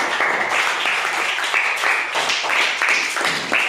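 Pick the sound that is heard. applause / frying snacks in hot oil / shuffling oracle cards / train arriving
applause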